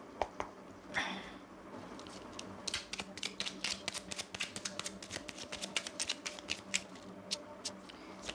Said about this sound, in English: I will take another card from this deck, which is the Everyday Witch Tarot deck.